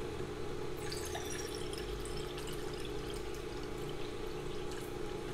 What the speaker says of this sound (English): So 2 1/2 cups of water, and I'm putting it in this container directly.